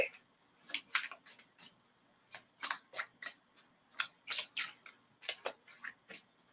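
Playing cards riffle-shuffled in a rapid series of crisp, ruffling bursts with brief pauses between, close and fairly quiet, with no talking over them.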